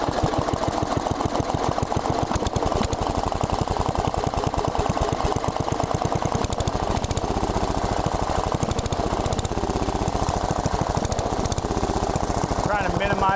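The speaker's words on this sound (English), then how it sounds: "And what I do is by hand, I rev it like this" A Briggs & Stratton 10hp engine on an Allis-Chalmers Big Ten garden tractor revs by hand while its carburetor is adjusted, with a steady, loud, close chugging that rises and settles and a rapid mechanical rattle throughout.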